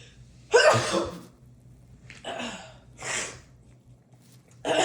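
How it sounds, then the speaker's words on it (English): A loud close sneeze bursts out, followed by a couple of sharp breathy snorts and sniffs, then another forceful burst at the end, against a faint low hum. "I gotta sneeze."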